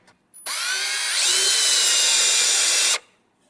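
A power drill whines steadily for about two and a half seconds, its pitch rising slightly as it bites into the metal of a 1965 Chevrolet C10 truck bed side, then stops abruptly.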